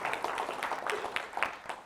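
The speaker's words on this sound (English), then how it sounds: "So big round of applause for their team, too." An audience at a Power Network Group keynote event breaks into steady applause, a dense patter of many hands clapping together at moderate volume for a couple of seconds.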